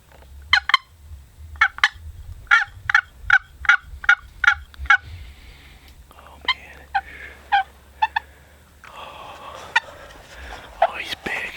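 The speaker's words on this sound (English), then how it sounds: "good-sized gobbler." A wild turkey gobbler gobbles repeatedly in the open during turkey season, loud bursts in quick series followed by a few more scattered calls, with faint noise between.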